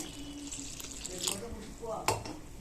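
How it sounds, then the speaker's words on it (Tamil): Water pours into a pot of Kerala-style tamarind prawn curry, a soft, faint splashing and trickling close by, with a voice speaking quietly in the background. "இனி தேவையான அளவு தண்ணி ஊற்றிட்டு"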